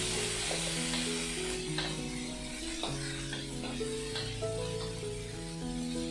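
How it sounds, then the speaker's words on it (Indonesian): Anchovies, onion and chili sambal sizzle and crackle steadily in a hot pan with scraping stir strokes throughout, loud and close with no talking. "Oke, tinggal dioseng-oseng."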